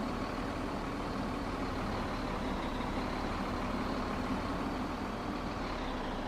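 A truck in Farming Simulator 17 maneuvers slowly into a sales point, its engine giving a steady, even drone with no clear changes in revs, moderately loud and alone.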